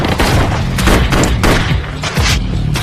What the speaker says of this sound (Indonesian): Di sana William terkena tembakan.